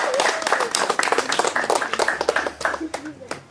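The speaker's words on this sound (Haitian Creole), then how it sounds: "un petit applaudissement pour question, monsieur" An audience at an Independence Day event in Miragoâne, Haiti, gives a brief burst of clapping, dense at first and thinning into scattered claps, with a voice over it.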